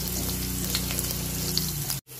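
Finely chopped green chillies fry in hot oil in a pan, giving a steady, close crackling sizzle with light stirring that runs unbroken for about two seconds, then cuts off abruptly.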